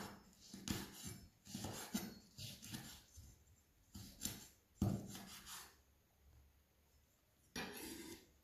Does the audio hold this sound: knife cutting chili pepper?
yes